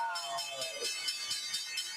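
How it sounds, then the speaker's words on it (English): A stock exchange opening bell ringing in rapid repeated strikes, a steady metallic trill lasting a couple of seconds with no talk over it. "That's the opening bell in the CNBC real-time exchange."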